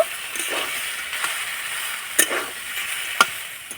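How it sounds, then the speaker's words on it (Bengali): Spiced potato filling for spinach puris sautéing in a pan, a continuous close sizzle broken by sharp spoon scrapes and clacks against the metal at irregular intervals. "এবার সব কিছু ভালো করে কষিয়ে নেব"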